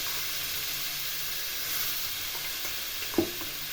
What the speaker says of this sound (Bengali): কড়াইয়ে তেল গরম করে এর মধ্যে 5 ফোড়ন দিয়ে কুমড়োগুলো দিয়ে দিলাম। কুমড়োগুলো একটু ভেজে নিয়ে কয়েকটি চিংড়ি মাছ দিয়ে দিলাম।